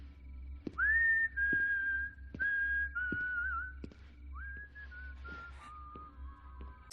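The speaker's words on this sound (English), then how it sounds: "whistling is a terrifying tool in a horror setting" A person whistles a slow, wavering tune of sustained notes, close and clear, with soft clicks between phrases and a low hum beneath.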